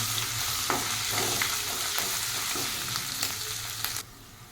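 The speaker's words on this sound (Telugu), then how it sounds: "ఒక టేబుల్ స్పూన్ అల్లం వెల్లిపాయ పేస్ట్ వేసుకోవాలి ఇది పండుగ అయినాక మంచిగా ఫ్రై చేసుకోవాలి" Ginger garlic paste frying with onions in a pan for a goat head curry, a steady close sizzle with occasional stirring scrapes that stops abruptly near the end.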